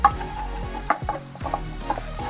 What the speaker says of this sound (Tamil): ஸோ ஒரு 1 minute அது நல்லா ஃப்ரை ஆகிட்டு இருக்கு